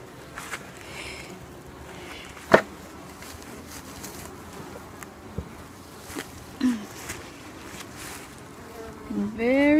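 Honey bees hum in an opened hive ten days after a package install, a steady close buzz with a few sharp knocks and bumps as the hive is handled.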